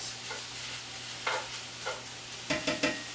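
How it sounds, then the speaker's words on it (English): Cauliflower rice being stirred into sizzling beef in a pan, giving a steady frying hiss broken by several scraping stir strokes, with three quick ones close together near the end. "we're going to add our cauliflower rice."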